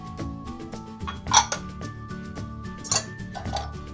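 Bright clinks and taps of utensils against a mixing bowl holding egg whites ring out at a steady pace, with a couple of sharper metallic chimes standing out.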